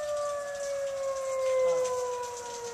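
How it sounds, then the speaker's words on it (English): A tornado warning siren wails steadily in Monroe County, Michigan, as a sustained, slightly falling tone with harmonics heard from a distance over outdoor ambience. "Siren just went off."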